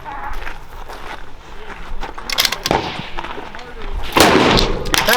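Rifle gunshots on an outdoor NRL match rifle range, several sharp cracks spread across the scene, some near and loud with one strong report late, amid people talking and ambient range noise.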